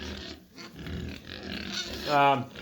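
Pigs in a pen inside a century-old barn grunt low and rough at close range, ending in a louder squealing grunt.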